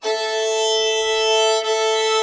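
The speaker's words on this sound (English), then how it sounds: "So I'm playing the two top strings at once that sound like this." Two top strings of a guitar sound together in one sustained dyad, ringing steadily at close range with a brief dip near the end, with no speech over it.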